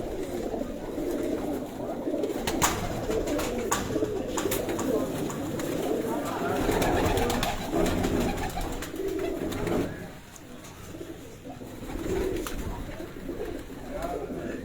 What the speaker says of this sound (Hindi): ये तमाम उनके ब्रीडर कबूतर जो हैं ये मैं आपको दिखा रहा हूँ।